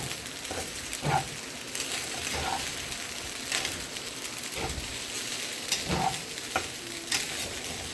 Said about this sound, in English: we're gonna mix everything together